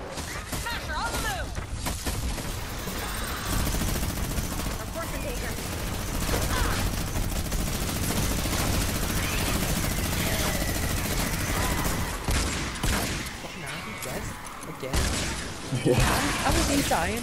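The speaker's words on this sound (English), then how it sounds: "He's shooting me now." Dense bursts of gunfire from the video game Fortnite Save the World during a Stonewood storm shield defense, rapid volleys that keep going under a player's talk.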